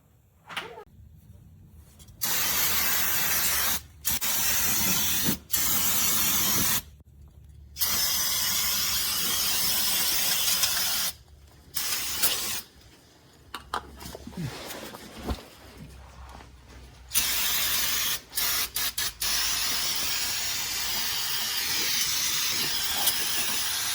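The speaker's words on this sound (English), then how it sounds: "I'm gonna hose it off now" A garden hose sprays rust dissolver off parts of a 1962 Chevrolet Biscayne, a loud hissing water spray that starts and stops in repeated bursts with short quiet gaps, and someone talking briefly between them.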